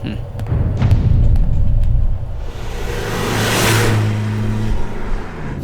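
A car drives along with a steady low engine rumble, a few thuds, and then comes to a stop.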